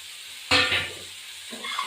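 Grated ginger dropped into a pan of fried katla fish pieces starts a sudden burst of sizzling that fades to a steady crackle, near and loud, with light utensil stirring near the end.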